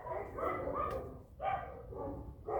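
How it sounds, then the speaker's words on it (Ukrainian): A dog barks in a few short, bright yips and bow-wows heard indoors at moderate distance, with a brief pause before two more barks. "Наша собака гавкає."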